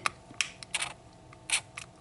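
A spray bottle mists rubbing alcohol onto makeup powder in a few short, soft hissing bursts, separated by quiet pauses and small handling clicks.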